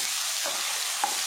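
Steady, dense sizzling of a ground spice paste frying in hot oil for raw mango rice, continuous and fairly loud, with a couple of faint stirring scrapes.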